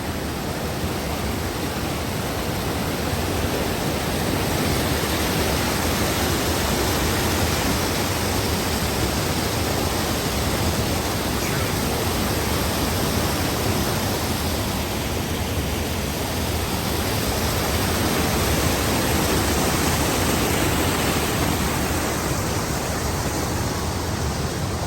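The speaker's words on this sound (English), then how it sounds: "Falls continue all the way down the rocks." Waterfall pouring down the rocks at a western Massachusetts falls, a loud, dense, unbroken roar of rushing water that stays steady and close throughout with no other sounds.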